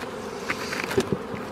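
Honeybees buzz around a spring hive with a queenless swarm, a near, steady drone with a few louder passes of single bees and no voices.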